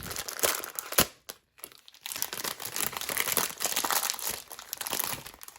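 Vintage-style paper washi tape being torn and handled up close, soft crinkly crackling with a sharp rip near the start and a brief quiet gap before more rustling, no talking.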